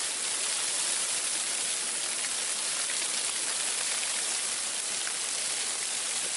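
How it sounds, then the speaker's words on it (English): Sleet hits a camping tarp during a deep freeze, making a dense, steady hiss of pelting ice that holds without pause, with no voices. "and now it's sleet hitting the tarp."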